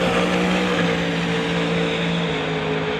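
A Pro Street drag race car on its qualifying run at an evening drag strip gives a loud, steady engine drone with sustained tonal harmonics and no talking.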